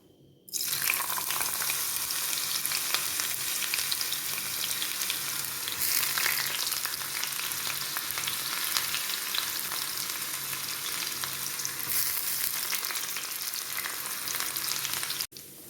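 Loud, continuous sizzling of ginger frying in oil starts abruptly and holds a dense, even hiss for the whole stretch, with no voices.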